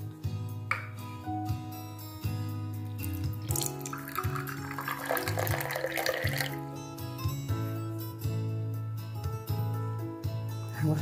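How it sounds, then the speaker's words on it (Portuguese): Water pours from a Maria de Barro clay water filter into a glass, a hissing trickle that builds for a few seconds in the middle, set against steady background music. "Água filtrada no meu vidro lá, meu filtro lá da Maria de Barro."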